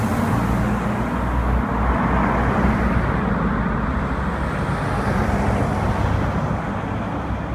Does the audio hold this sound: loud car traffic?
yes